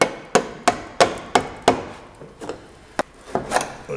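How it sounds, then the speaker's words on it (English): Hammer-struck chisels prying riveted floor panels loose give about a dozen sharp, close metallic-wooden knocks, quick and regular at first, then sparser with brief pauses. "Whenever you're chiseling panels off, it's good to have a couple chisels."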